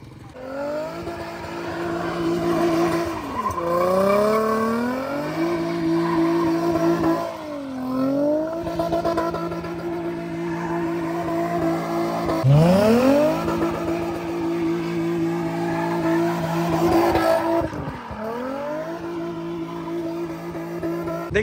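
A Nissan 350Z spins through donuts while drifting, its engine revving hard and tires squealing in long repeated rising and falling sweeps, loud and close, with no talking.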